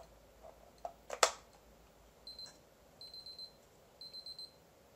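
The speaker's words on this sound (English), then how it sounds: "what that beeping sound was me crashing" A retro Off-The-Wall projector video game cartridge system sounds a crash alert, a few short thin electronic beep bursts repeated in a quick pattern, preceded by some faint clicks and one sharp tap.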